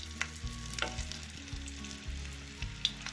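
Chicken pakoda pieces frying in hot oil over a medium flame, a soft steady sizzle with low periodic thumps and a few sharp clinks, fairly quiet and with no talking.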